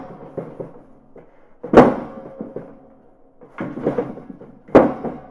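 A chair bangs against a door, two loud heavy impacts each set in a cluster of smaller knocks and thuds, close by with no voices.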